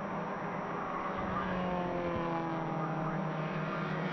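Race cars, including an orange number 55, run together on a track during a NASA racing event, their engines droning steadily and loudly throughout with a dense overlapping roar and no clear single pass-by.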